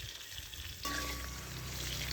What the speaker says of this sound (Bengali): ফার্স্ট কাজ হচ্ছে আলুটা ভেজে নেওয়া